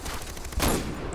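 A short burst of gunfire in the video game Far Cry 4, one loud close blast amid a rough noisy background lasting about a second.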